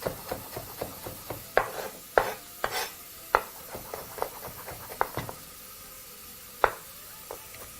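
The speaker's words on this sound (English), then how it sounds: "a nice quick chop through with a sharp knife will of course aid you in getting a nice, more smaller size to work with" A sharp knife finely chops vegetables on a board, with irregular quick taps and knocks close by, some louder strikes among softer ones, then thinning out toward the end.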